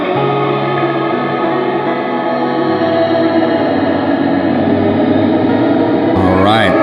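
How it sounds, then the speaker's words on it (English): A glitchy, darker reverb from an effects unit spreads a dense, sustained wash of layered tones, loud and steady, with a pitch-bending swoop near the end. "darker reverb sound that begs to be explored for more experimental applications"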